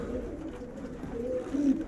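Soft, low homing pigeon coos murmur nearby over a quiet background, a couple of throaty calls rising toward the end.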